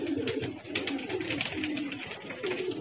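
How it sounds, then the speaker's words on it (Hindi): Pigeons coo steadily at close range in a repeating low murmuring rhythm as a returning pigeon arrives during a flight session, with no voices over them. "तो दोस्तों ये एक और कबूतर अपना वापसी करता हुआ"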